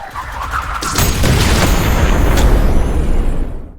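A burst of video-game explosions in Splatoon as enemy projectiles detonate: a loud, dense run of booms and crackling blasts that starts after a quieter opening and carries on to the end, with no voices.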